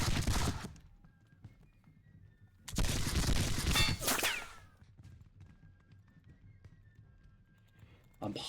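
Musket volleys crash out in bursts in a Seven Years War battle game set at Zorndorf, loud clustered gunfire separated by quieter stretches with faint tonal game sounds, with a person talking over parts of it.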